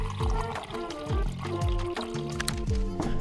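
Water is poured into a glass in a steady, close stream with a gurgling, rising fill. The sound continues for a few seconds over a faint musical background.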